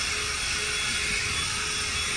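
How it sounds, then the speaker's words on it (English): Drill brush spinning against a suede car seat during interior detailing, a steady, loud motor whir mixed with a constant bristly hiss, unbroken and close up. "and a drill brush"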